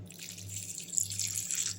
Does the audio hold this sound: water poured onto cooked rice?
yes